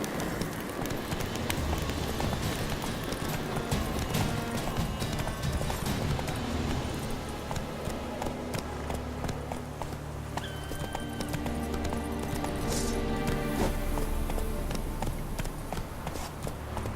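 Roach, Geralt's horse in The Witcher 3, gallops steadily with dense, continuous hoofbeats close up over a wash of ambient game sound, with a brief high tone mid-way.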